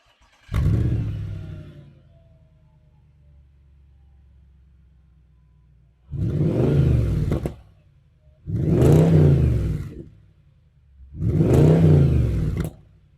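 An Audi S5 V8 barks through its dual exhaust in four loud revs: one short blip, then three longer sustained pulls, with idle rumble in the pauses between them.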